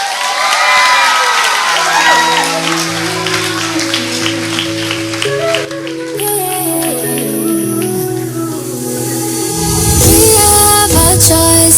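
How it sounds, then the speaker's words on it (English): A crowd at an eighth-grade graduation ceremony at Pohnpei Seventh-day Adventist School claps and cheers, with children's shouts rising over it. Tonal music plays loudly throughout and swells toward the end. "Give them a big round of applause"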